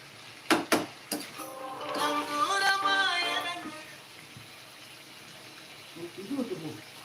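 Water pours and splashes steadily into a cooking pan of ivy gourd stir-fry for a few seconds after a couple of sharp clanks, with faint rustling and a voice near the end.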